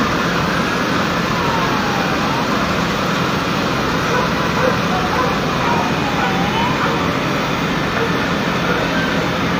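Fire truck sirens wail at a building fire in Pinagbuhatan, Pasig City, with sweeping tones rising and falling over a loud, dense street roar of engines and crowd noise.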